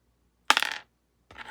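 A gold nugget from a paydirt sample dropped into a container gives one bright metallic clink with a brief ringing tail, followed a moment later by a second, softer clink, close and clear in a quiet room.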